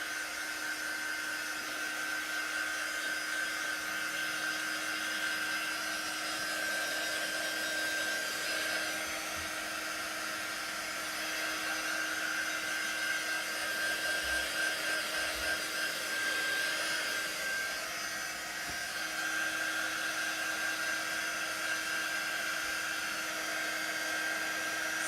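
Handheld dryer blowing over chalk paste on a stencil, a steady, even whirring hum with a faint high whine that runs unbroken the whole time at moderate loudness, with no talking.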